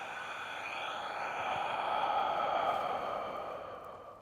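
A slow, steady exhalation during a qigong breathing exercise, a soft airy breath out that swells and then fades, close and alone.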